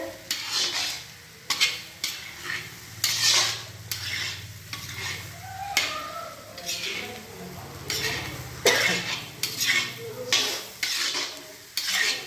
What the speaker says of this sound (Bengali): মুড়ি ঘন্ট হচ্ছে কষা হচ্ছে উপরে ঘি দেওয়া হবে